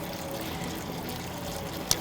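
Juice trickles steadily from a water-powered fruit press with a black liner, a soft continuous pouring flow at close range, ending in one small sharp tap.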